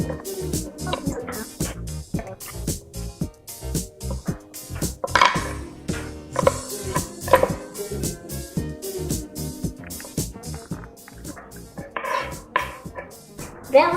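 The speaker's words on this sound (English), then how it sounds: "let's start chopping and scooping" Rapid knife chops through feijoas on a cutting board, close and rhythmic, with occasional clinks of utensils and bowls between the strokes.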